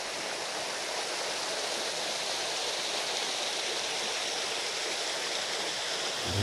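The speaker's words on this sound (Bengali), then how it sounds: "ওই দেখা যাচ্ছে ঝর্ণা" A waterfall hidden deep in the jungle on the Latpanchar trek near Darjeeling, heard from far off as a steady, even roar of rushing water with no voices.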